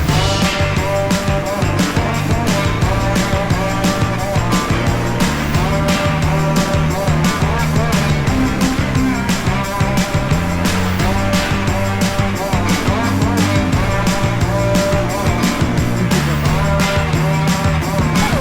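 Off-road motorcycles riding a trail, their engines droning and revving continuously and loud with knocks and rattles over rough ground, with no talk.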